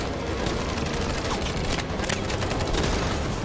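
Gunfire fills a firefight in the video game Detroit: Become Human, with a dense, continuous fusillade of shots and bursts of automatic fire.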